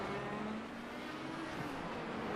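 Race cars in the VolticPistol video game Grand Prix of Long Beach produce a steady, faint engine whine with a continuous tonal drone and slight pitch shifts, heard alone without talk.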